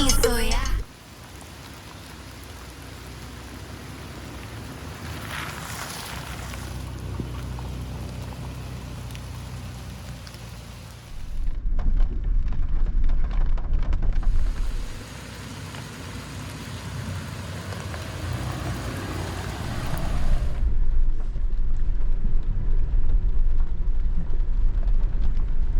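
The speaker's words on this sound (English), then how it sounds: "Just in time, as it started raining." Rain patters steadily on a trail in the Cherokee National Forest, a broad hiss that swells and drops over the stretch, with low rumbling underneath and no talk.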